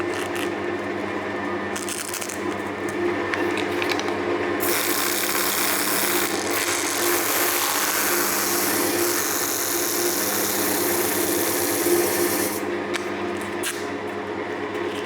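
Chestnut wood spinning on a lathe while 240 grit abrasive is worked across it, giving a steady whirring motor drone with a hissing rub that stays fairly even throughout, no talking.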